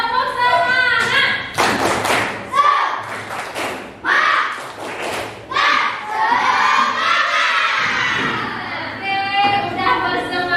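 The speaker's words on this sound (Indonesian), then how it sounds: "Kita tepuk semangat ya. Tepuk semangat." A classroom of children doing a rhythmic spirit clap led by their teacher, sharp clap bursts in a pattern mixed with loud children's chanting and shouting, close and energetic.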